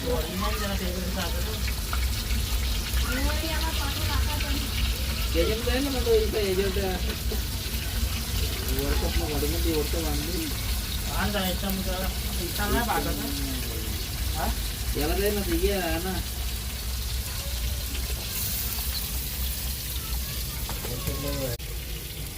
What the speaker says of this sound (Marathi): माशाची फ्राय बनवली, ह्या साईडला बनवते वहिनी